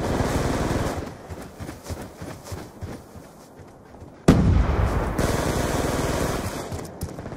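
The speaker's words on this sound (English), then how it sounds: "Dude's shooting at me, Velvet." Dense, continuous gunfire and explosions from a Black Ops 2 multiplayer match roll on loudly throughout, with a sharp, louder blast partway through.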